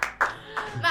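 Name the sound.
applause for Caca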